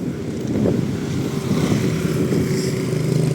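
A Honda CBR motorcycle passes on a rural road during a cycling loop in Botolan, its steady engine drone held under heavy wind buffeting from a moving microphone for the whole stretch.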